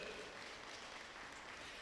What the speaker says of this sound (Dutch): Een warme applaus voor de minister